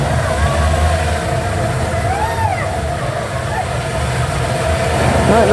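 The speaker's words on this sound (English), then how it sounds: "And that's the starboard engine started." The starboard engine of the boat Megaphobia at Cardiff Bay runs with a loud, steady low rumble and a continuous mechanical drone, close and unbroken throughout.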